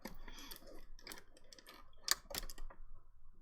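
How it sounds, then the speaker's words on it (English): A sewing machine stitches the front flap of a handmade idea book. The stitching comes in short mechanical ticking bursts with brief pauses, fairly close and moderately loud, and no one speaks. "I am sewing on the front flap, not sewing it to the back cover."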